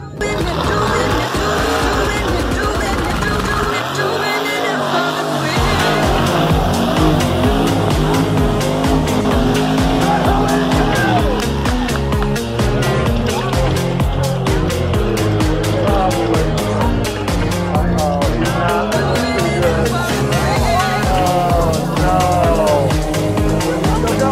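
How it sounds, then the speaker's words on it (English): Trucks mud bogging at the Montana State Fair give off loud, steady engine roar and revving that rises and falls. The noise runs without a break through the whole stretch, with tire noise in it and people talking over the top. "They run trucks through like just mud."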